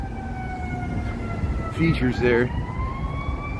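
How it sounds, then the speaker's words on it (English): Emergency vehicle sirens wail on a Chicago street, steady rising tones carrying over city traffic noise, with someone briefly talking over them. "We got some sirens here."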